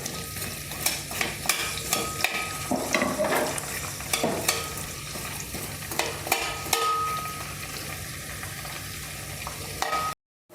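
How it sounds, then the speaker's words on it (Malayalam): Onions frying in oil in a pan for homemade chilli chicken give a steady close sizzle, broken by repeated scraping and stirring knocks, before the sound cuts out abruptly near the end. "നമുക്ക് ആദ്യം ഈ സവാളയും കാച്ചിക്കോ ഒന്ന് പതുക്കെ ഒന്ന് വാട്ടി മാറ്റാം"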